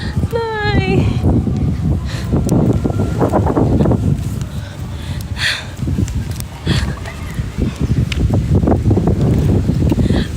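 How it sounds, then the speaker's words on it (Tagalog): Strong wind buffets the microphone with a loud, roaring rumble that rises and falls, while people talk over it. "Lakas pa ng hangin."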